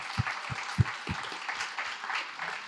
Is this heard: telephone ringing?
no